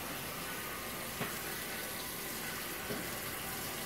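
Hot water runs steadily from a kitchen tap and pours down the sink drain, a continuous close broadband wash with a couple of faint clicks and no talking.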